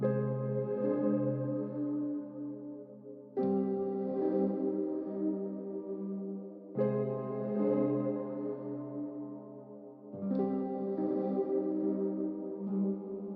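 A breathy, sustained flute sample phrase repeats about every three and a half seconds, smeared with warm tape-effect wobble and a long reverberant wash, playing alone.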